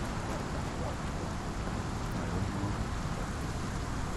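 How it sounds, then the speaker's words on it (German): Steady, dense rain pours into a cave in the video game Sherlock Holmes The Awakened, a continuous close hiss with no pauses or distinct drops. "Und es regnet rein."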